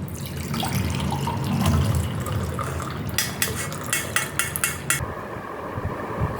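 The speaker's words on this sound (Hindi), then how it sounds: "अब हम छान लेंगे इसको" A herbal kadha decoction, boiled down to half a glass, is strained into a glass. A soft pouring wash of liquid is followed by a run of sharp, close metallic clinks from a utensil.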